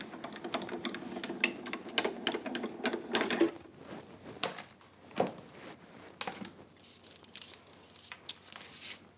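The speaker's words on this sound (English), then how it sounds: "Because it's a simple cutting edge, you'll hear some cracking. That's perfectly normal." A craft die-cutting machine runs a thin metal cutting die for an ivy aperture design, giving off cracking, crunching and clicking mechanical sounds. They are loud for the first few seconds, then turn fainter and sparser, with no talk.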